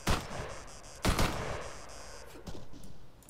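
Light machine gun fire in ARMA 3, a few sharp close bursts with a gap between them, each trailing off into a long echoing tail, with no voices over it.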